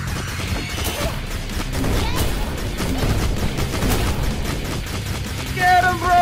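Rapid bursts of gunfire and crashing impacts from the video game Dead or School keep going, loud and dense, while a player shouts over the action.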